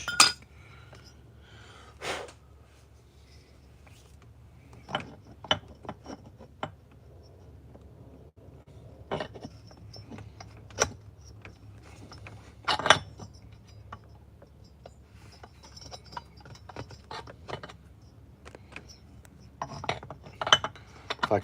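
Scattered metallic clinks, taps and light rubbing as a flywheel is fitted onto a modified 440 engine, with quiet stretches and soft breathing between the handling noises.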